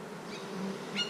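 Honeybees hum steadily around a backyard hive, a soft continuous drone with a couple of brief louder buzzes as bees pass close.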